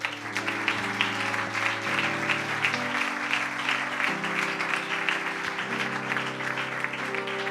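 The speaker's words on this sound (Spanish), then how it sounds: "Dale un aplauso al Señor." A church congregation claps steadily over organ or keyboard chords, a dense sustained round of applause held at even loudness throughout, with no speech over it.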